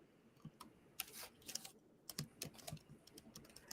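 Fast, irregular clicking of computer keyboard keys, quiet and close by, with short bursts of keystrokes and brief pauses as a web search is entered.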